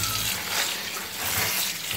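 Running water rinsing fresh spinach leaves in a kitchen sink, washed repeatedly until the water runs clear of sand; a steady, close, continuous splashing wash with no talk over it.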